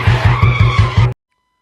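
A motorbike brakes hard and skids to a stop, its engine pulsing in a quick rhythm with a tire squeal over it, loud and close, then cutting abruptly to silence.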